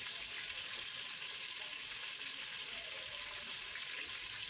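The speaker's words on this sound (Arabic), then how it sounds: "هنا ديرو البصله تتقلى مع الدجاج" Onions frying with chicken in a pot, a steady, even sizzle with a hissing quality that holds at a constant low level throughout, close and alone.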